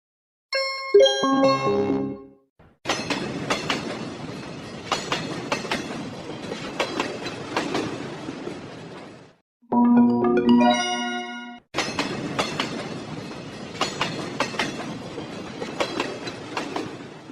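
A train rolling along rails, with steady clickety-clack of wheels over joints and brief horn-like tonal bursts between longer stretches of rumbling passage, fairly close and continuous.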